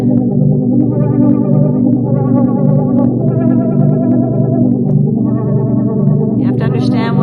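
A Roland Juno synthesizer run through effects plays a continuous, loud distorted tone with warbling chorus and echo, while stepped higher notes repeat in a pulsing pattern above it.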